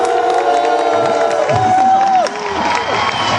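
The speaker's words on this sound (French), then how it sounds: "On peut l'applaudir, par exemple." A short burst of audience cheering and applause at a video game tournament, loud and close, with whoops and a whistle-like shout over the clapping crowd.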